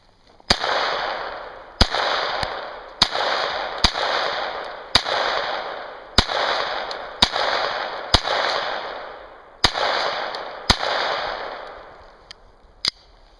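About ten sharp, loud shots from a Sig Sauer Mosquito pistol fired at bottle targets, each crack ringing out and decaying before the next, spaced roughly a second apart with no talk.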